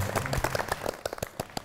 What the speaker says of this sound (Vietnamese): Tất cả chúng ta có thể dành một tràng pháo tay dành cho chính mình được không ạ?